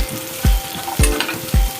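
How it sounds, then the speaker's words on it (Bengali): Garlic and onion fry in hot oil in a pan, a loud continuous sizzle punctuated by three regular thumps and scrapes of stirring, with no voices. "মরিচের গায়ে তেলটা মাখিয়ে একপাশে সরিয়ে দিয়ে দিয়েছি রসুন আর পেঁয়াজ"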